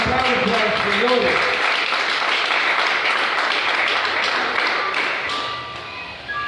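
Applause from a church congregation, a dense broadband patter of many hands filling the room, steady and fairly loud, with voices and music tones running beneath it before it fades toward the end.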